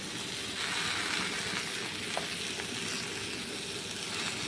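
Kashmiri chili powder and sugar added to a jackfruit curry pan, giving a soft, steady sizzle of frying with light stirring, moderately quiet and continuous.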